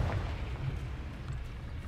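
A Confringo spell explosion in Hogwarts Legacy, a dense, rumbling boom that fills the short moment with loud, low, sustained blast noise.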